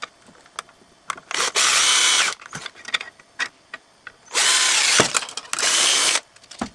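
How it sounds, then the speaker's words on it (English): Power drill boring holes in a model car chassis for electric headlights, two long steady whirring bursts with short tool clicks and handling knocks between them, close and loud. "I have drilled the holes"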